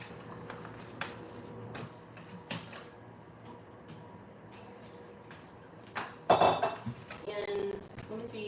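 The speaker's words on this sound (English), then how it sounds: "gonna go ahead and rinse this bowl out because I'm gonna put my turkey in here as well to rinse off" Kitchen sink work while a bowl is rinsed before holding a turkey roll, with clattering dishes and utensil clinks, some splashing and water noise toward the end, fairly close and moderately loud.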